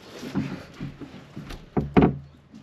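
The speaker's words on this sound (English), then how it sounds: "This door's locked." A locked interior door in an abandoned collector's house being tried, with several dull knocks and rattles from the handle and frame, ending in two louder thuds close by.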